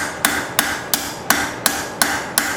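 Hammer blows tapering square steel stock into a smooth transition to round while forging banister hooks, seven sharp evenly spaced ringing strikes, close and loud, with no voices.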